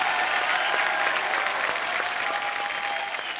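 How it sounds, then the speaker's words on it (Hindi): A studio audience on The Kapil Sharma Show gives loud, sustained applause for the Khan family, a dense, even roar of clapping throughout. "एक बार जोरदार तालियां हो जाए पूरे खान परिवार के लिए"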